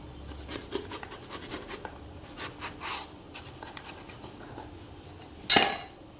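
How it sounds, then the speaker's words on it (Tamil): A knife cuts through a large brinjal on a board with soft, scattered scraping strokes, then one sharp, louder chop near the end. "பிறகு சூப்பராக அருமையாக கத்திரிக்காய் கட் பண்ணிடலாம்"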